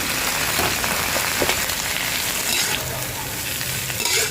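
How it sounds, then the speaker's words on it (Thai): Cabbage and Chinese kale being stir-fried in a pan for yakisoba, a loud continuous sizzle and crackle with stirring scrapes, close and without talking. "แล้วก็ทำการผัดให้กระหล่ำปีกับคะน้านะคะ มันสลบลงไปเล็กน้อยค่ะ"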